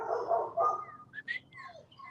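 Dogs bark indoors in a few short, fairly faint yips and barks, one of them rising into a higher whine near the end.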